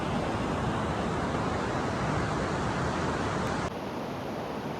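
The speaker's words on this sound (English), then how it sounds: "Listen to the waves, feel the wind" Ocean waves wash steadily onto a beach, a continuous broadband roar of surf with some wind, close and fairly loud, with no voices throughout.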